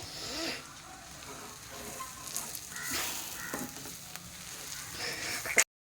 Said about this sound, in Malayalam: മുളക് പൊടി, ഗരം മസാല, മഞ്ഞപ്പൊടി, മല്ലിപ്പൊടി ഇത്ര ഇട്ടിട്ട് നന്നായിട്ട് ഇളക്കാവേ